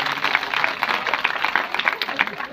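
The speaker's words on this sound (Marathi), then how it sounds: "बसत एकदा टाळ्या वाजा तुमच्या सर्वांसाठी" Audience at a Hindu religious discourse clapping together, a dense, steady patter of many hands heard close and fairly loud throughout the short stretch.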